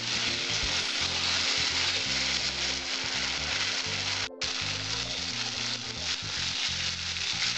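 Potato pieces and spices sauté in a pan for a Bengali lentil-dumpling curry, giving a continuous close sizzle with faint scraping stirs and one brief clatter midway.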